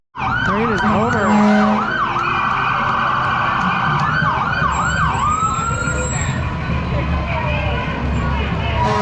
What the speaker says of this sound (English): Old fire truck.